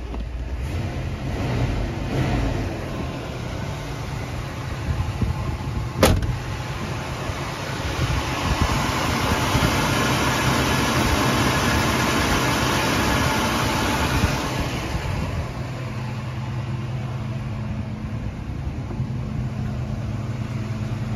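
A 1975 Oldsmobile Delta 88 Royale Coupe's 455 V8 with single exhaust idles steadily with a low, even rumble, holding a smooth, quiet tone throughout with a brief click partway.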